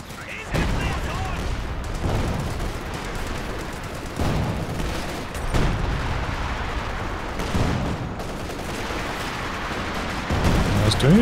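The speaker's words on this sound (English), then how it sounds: "machine gun." Machine gun fire in a Company of Heroes 2 multiplayer battle: dense, loud rattling bursts that roll on continuously, with heavy booms and battlefield din layered throughout.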